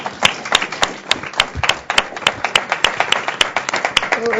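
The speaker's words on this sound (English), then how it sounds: "I want to just give a big round of applause for Scott and everything he does." Sparse applause from attendees at a consumer advisory committee meeting, a handful of distinct, sharp hand claps spaced irregularly in a quiet room, with a voice starting faintly at the very end.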